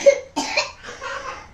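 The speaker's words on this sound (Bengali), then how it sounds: "ওর কাশি হয়েছে নাকি" A young child coughs at home in a few short, hoarse bursts, with two sharp coughs followed by a softer, drawn-out one, heard close by.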